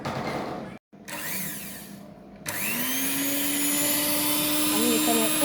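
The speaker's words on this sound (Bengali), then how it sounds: "আমি এখানে একটা মিক্সার নিই।" Electric mixer whirring through eggs and ingredients for caramel pudding, starting and stopping briefly before settling into a loud, steady motor whine with shifting pitch as it churns, close by.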